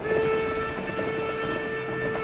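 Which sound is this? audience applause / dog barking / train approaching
train approaching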